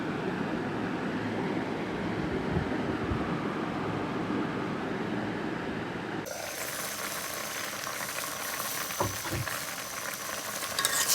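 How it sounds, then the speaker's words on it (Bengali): Drumstick curry cooks in a pan with a continuous dense sizzle and occasional stirring scrapes, changing to a brighter, hissier frying tone about halfway through. "আর সাজনা রান্না করতেছি।"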